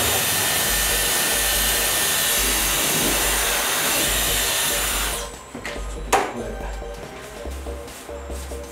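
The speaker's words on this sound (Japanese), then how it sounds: "ここにドライヤー当てて乾いてから" A hair dryer blows on long black hair during an inner-color dye job, a loud, steady close-up whir for about five seconds before it cuts off, leaving quieter handling noises.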